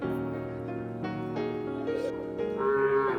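Several thin, bony calves at a cattle market moo in drawn-out, nasal calls, one after another, close by and fairly loud with no talk over them.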